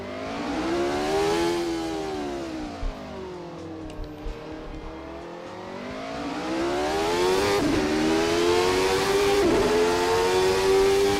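Race car engine at high revs echoing through tunnels on the Detroit street circuit, a loud sustained howl rising and falling in pitch with gear changes and brief blips, heard close throughout without talk.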